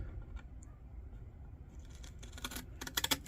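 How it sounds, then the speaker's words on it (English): Scissors cut material for an antique Stonebridge folding candle lantern restoration, with faint quiet at first and then a few short, crisp snipping bursts close by near the end. "Hope I'm going to be able to cut that with scissors"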